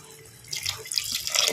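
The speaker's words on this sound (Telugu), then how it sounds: "వాటర్ యాడ్ చేస్తాను నేను ఇప్పుడు." Water is poured into a masala gravy for mirch ka salan in a short splashing trickle that builds after a quiet start, close and moderately loud.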